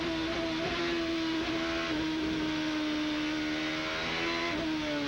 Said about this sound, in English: Just listen to him work the throttle